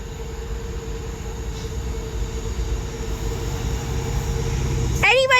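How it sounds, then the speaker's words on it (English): A Class 66 diesel freight locomotive rumbles steadily through a station, its low engine drone and rolling wagons building gradually, with a brief squeal near the end. "Now passing through is going to be a freight Class 66."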